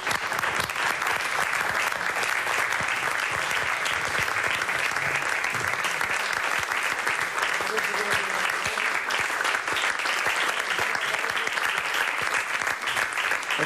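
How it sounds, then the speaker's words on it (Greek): An audience at a Greek music tribute concert applauds loudly and continuously, a dense sustained roar of clapping with voices faintly mixed in. "θέλω να τους χειροκροτήσω όρθιος."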